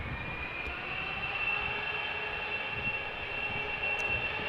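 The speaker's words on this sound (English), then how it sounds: "Turkish Airlines Flight 6074, 777 freighter." A Turkish Airlines Boeing 777 freighter at Amsterdam Schiphol Airport sends out a steady distant jet rumble topped by a thin sustained whine, moderately quiet and constant, without voices.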